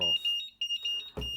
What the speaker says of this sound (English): It beeps and it turned the motor off.